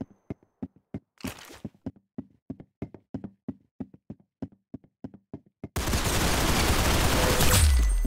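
Rapid gunfire in the Roblox Arsenal video game, a long run of sharp, evenly spaced shots with a short rattling burst early on, followed by a loud, sustained noisy blast that fills the rest, with no voices.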